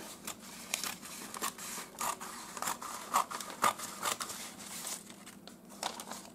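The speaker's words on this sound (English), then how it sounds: "actually I might just grab my scissors" Scissors snip and scrape through paper while trimming a collage on a glue book cover, making a run of close, crisp cuts and crinkles with no talking.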